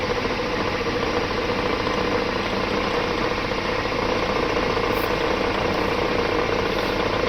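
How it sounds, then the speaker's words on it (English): A lathe runs steadily in a cold workshop, circulating oil, producing a constant, even mechanical hum and whir at moderate level with no speech. "So I'm just going to let the lathe just circulate some oil for a second."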